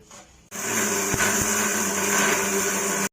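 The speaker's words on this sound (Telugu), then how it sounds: "అది వేసి మిక్సీ కొట్టుకోవడం" A mixer grinder grinding amla powder whirs loudly and steadily for about two and a half seconds after a brief quiet start, then cuts off abruptly.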